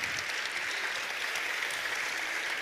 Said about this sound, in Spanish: Les pido un fuerte aplauso para María Augusta Benavides